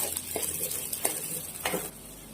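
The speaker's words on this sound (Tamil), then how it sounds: "பூண்டு நல்லா பொன்னிறமாக வதங்கினா வெங்காயம் போட்டு அதுவும் நல்லா வெங்காயமும் நல்லா பொன்னிறமாக வதக்கிக்கலாம்" Garlic and onions sautéing in a pan for a bitter gourd tamarind curry, with a soft, steady sizzle and a few quiet scrapes and stirs of a spoon against the pan.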